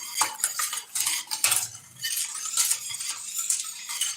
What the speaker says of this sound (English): So you stir it up.